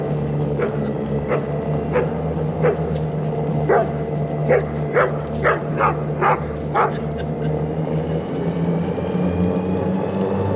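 A big white dog on a Florida beach barks about a dozen times in a quick series of sharp, mid-distance yips over steady wind and surf, then falls quiet.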